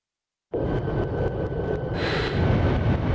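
Fighter jet launching in the Ace Combat 5 video game: after a brief silence a loud engine roar cuts in abruptly and holds steady, swelling with a brighter, hissing thrust partway through.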